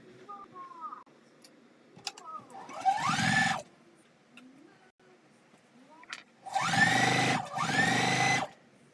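Sewing machine stitching a seam on a quilted Christmas table runner block, two steady whirring bursts of stitching with quieter fiddling and brief handling noises between them, heard close and alone.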